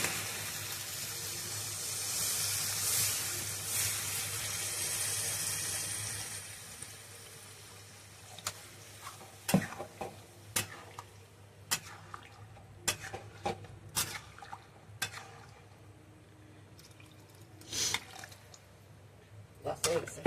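Water poured into a cooking pot on a traditional village stove, a steady rushing pour for several seconds followed by scattered drips and clatters of the pot.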